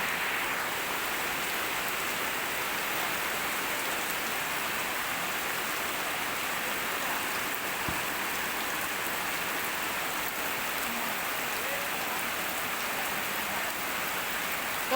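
Steady rain pattering down on a surface, a dense even hiss of drops, close and constant from start to finish.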